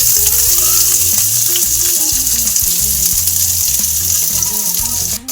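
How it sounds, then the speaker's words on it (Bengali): Chopped onions with dry red chillies and five-spice seeds sizzle loudly and steadily in a pan, a continuous close frying hiss with occasional stirring scrapes, with no talking. "এগুলোকে আমি একটু ভেজে নেবো। এবার আমি এর মধ্যে দিয়ে দেবো পেঁয়াজ কুচি।"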